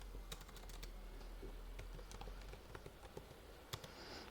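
Faint, scattered keystrokes of code being typed on a computer keyboard in a Python programming session, a few irregular taps over a steady low hum with no talk.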